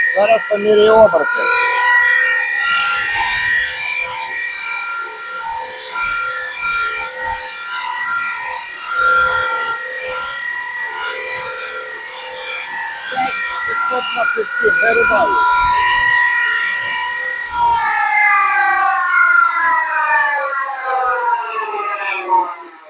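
A workshop machine motor runs at full power, giving a loud, steady harmonic whine that wavers and shifts pitch slightly over about twenty seconds, with faint clatter underneath.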